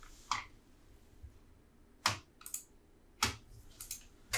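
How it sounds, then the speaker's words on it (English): Typing on a computer keyboard, a few sharp, separate key clicks spaced out over a few seconds, then a quicker cluster of taps, fairly faint and with no voices. "I have to type it in with the keyboard."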